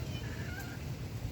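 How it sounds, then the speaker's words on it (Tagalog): A single drawn-out cat meow, fairly close and clear, over a low rumbling background. "Kung kita yung isa kong pusa."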